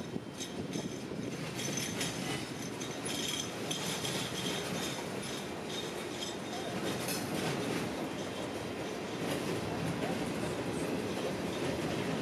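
A freight train with a pusher locomotive rolls along the Norfolk Southern main line near Cincinnati and Erlanger Hill in Kentucky, a steady rumble of cars with faint metallic clinks and wheel squeals, continuous and moderately distant, no voices.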